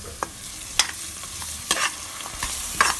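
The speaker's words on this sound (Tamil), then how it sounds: "பச்சை வாசனம் போகிற வரைக்கும் ஃப்ரை பண்ணுவோம்." Ginger garlic paste frying in a pan for a vegetable biryani, giving a steady soft sizzle with several sharp scrapes and clinks of a spoon stirring at irregular intervals, close and alone without talk.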